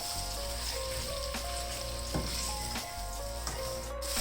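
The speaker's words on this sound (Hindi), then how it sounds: "प्याज और चिकन को 4-5 मिनट के लिए अच्छी तरह से फिर से फ्राई कर लेना है" Onions and chicken fry in a pan for a bhindi chicken dish, giving a dense, even sizzle up close with occasional stirring strokes cutting through.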